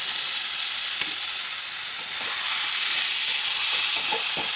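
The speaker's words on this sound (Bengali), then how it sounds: "এবার আমি সেদ্ধ করা মোচাটা দিয়ে দেবো" Boiled banana flower drops into hot spiced oil in a pan and sets off a loud, steady broadband sizzle, close up, with faint scrapes and occasional pops; no one speaks.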